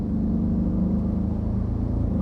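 A V8 engine in a roughly twenty-year-old Audi RS6 pulls steadily at low revs, its deep, continuous rumble held loud and close for the whole stretch with no gear change.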